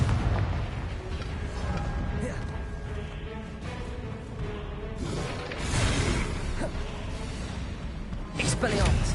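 Repeated Confringo blasting-spell explosions in a Harry Potter-style video game, a dense run of booms and bursts over busy battle noise, with a voice calling out spell names over the action.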